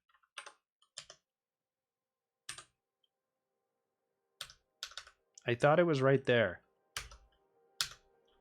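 Close computer keyboard typing in sparse bursts of a few keystrokes each, separated by quiet gaps, with a man's brief muttered remark in the middle.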